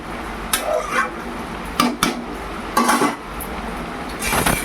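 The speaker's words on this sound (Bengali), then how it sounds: "বন্ধুরা এই দেখো ভেজিটেবল চিকেন একদম ডিশে আমি ঢেলে দিয়েছি।" Vegetable chicken is poured from a pan into a serving dish at home, with a series of close metallic scrapes, clinks and clatters of spoon on cookware separated by short pauses.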